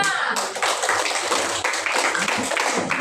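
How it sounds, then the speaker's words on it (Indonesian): Classroom applause for a student group, a steady patter of many hands clapping close by and filling the short moment without talk. "tepuk tangan dulu untuk kelompok 5"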